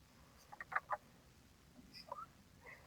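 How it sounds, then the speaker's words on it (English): Birds call outdoors in short bursts, a cluster of sharp chirps early on and another brief group later, fairly faint over quiet background noise. "Why did the birds sound like that?"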